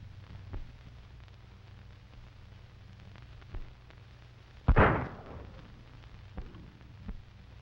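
A single loud gunshot booms and rings out in a 1930s western film scene, preceded and followed by fainter pops over a low hum, with no talk.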